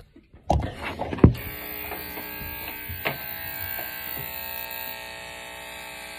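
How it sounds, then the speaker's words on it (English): Electric razor shaving hair off a head, heard as a few sharp clicks and bumps before a steady, close, high-pitched motor buzz runs continuously with small changes in tone as it moves over the scalp. "let me just shave all my hair"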